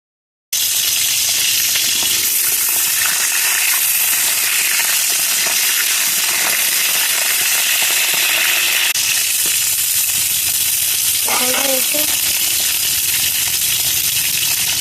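Pointed gourd sizzles in white oil in a kadai, a steady broadband hiss running throughout with a few faint clinks near the end and no talk.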